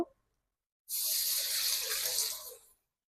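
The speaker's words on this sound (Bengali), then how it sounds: "তো চলো এবার আমি এর মধ্যে একটু জল দেবো" Water pours steadily for about two seconds into a pan of cooking egg masala, a bright splashing rush that starts abruptly and then tapers off, with no voices.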